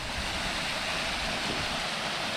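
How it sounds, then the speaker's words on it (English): A waterfall pours into a rocky creek, a loud, steady, broadband rush of falling and flowing water heard close by, with no voices over it. "there's lots of water flowing today. You see that waterfall right there?"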